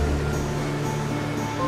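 Heavy storm rain pours down as a loud, steady, dense roar with no pauses and no talking.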